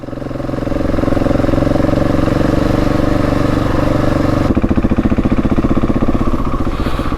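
A Husqvarna 701 Enduro single-cylinder motorcycle on a trail holds a steady drone, then shifts to a pulsing, thumping rhythm as it slows or changes gear. It stays loud and close throughout.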